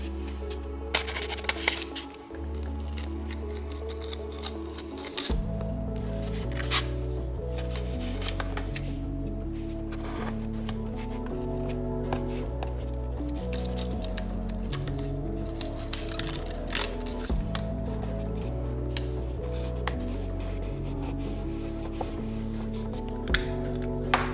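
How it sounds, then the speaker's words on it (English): Crisp snipping clicks of scissors cutting paper come in quick, irregular bursts over steady background music. "Let me use scissors."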